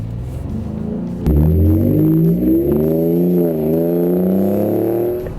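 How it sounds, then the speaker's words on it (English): A 2017 Ford F-150 Raptor truck accelerates hard through first and second gear while breaking its tires free, a loud, close engine roar rising in pitch after a sudden surge, then easing and climbing again. "Kind of a weird feeling in a truck when it's breaking the tires free through 1st and 2nd gear."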